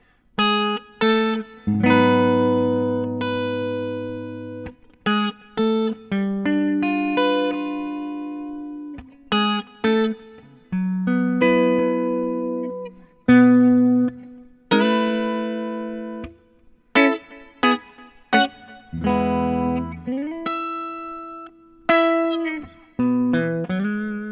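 Electric guitar plays a gospel-style introduction with ringing chords and sustained notes in short phrases with pauses, bright and effected, with no voices.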